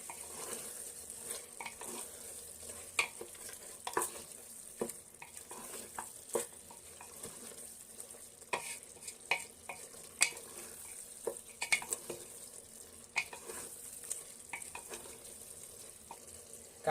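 Mutton pieces with turmeric, Kashmiri chilli powder, meat masala and salt are stirred in a pan for mutton curry, a soft continuous sizzle broken by frequent scraping clicks of the spoon against the pan, with no talking.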